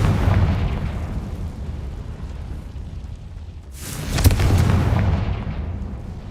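Confringo blasting spell from the Hogwarts Legacy video game: a low rumbling burst fading into quiet, then a sharp, bright explosive crack and crackling blast near the end, with no talking.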